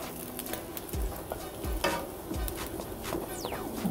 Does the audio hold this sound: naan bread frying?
yes